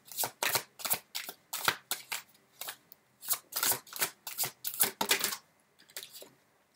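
Tarot cards shuffled by hand up close: crisp, rhythmic papery riffles and flicks in a quick regular pattern of about a dozen bursts, loud and clean with nothing else in the background.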